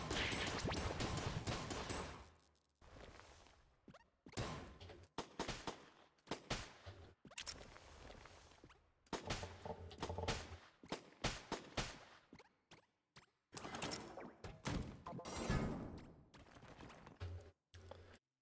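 Rapid bursts of gunfire from a gun in the video game Enter the Gungeon, loud and clustered into repeated volleys with short gaps between them, with crashes and impacts mixed in and no talk.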